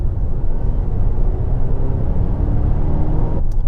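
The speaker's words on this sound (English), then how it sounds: "I don't like the supercharger noise when you put your foot down" A Volvo XC90 T8 hybrid SUV with a supercharger gives a loud, steady low engine drone and rumble from inside the cabin under acceleration, holding an even level throughout.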